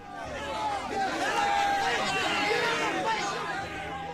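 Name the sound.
crowd shouting at a heretic's trial in a video game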